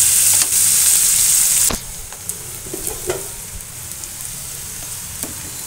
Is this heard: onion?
yes